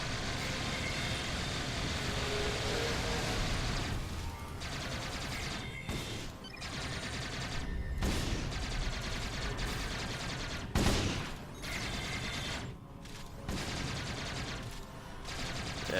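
Sustained volleys of automatic gunfire and shooting roar through a video-game battle, dense and continuous with vehicle engine rumble mixed in and brief dips between bursts.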